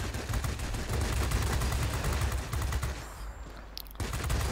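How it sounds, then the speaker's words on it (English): Bf 109 E aircraft guns firing in World of Warplanes, a dense continuous rattle of rapid shots over engine roar, easing briefly before resuming at the end. "I work the bomber over with the guns"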